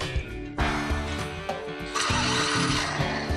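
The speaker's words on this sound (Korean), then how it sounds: "부르릉 우렁찬 자동차 시동 소리" A car engine cranks and catches with a loud roar, then settles into a strong, steady rumble over a tonal background bed.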